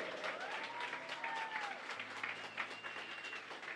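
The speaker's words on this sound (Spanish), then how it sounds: "denle un aplauso bien fuerte al Señor" A congregation in a church breaks into loud, sustained applause, a dense wash of clapping that holds steady throughout with a faint tonal whine drifting in the background.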